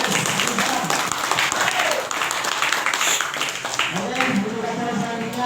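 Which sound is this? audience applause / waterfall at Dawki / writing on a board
audience applause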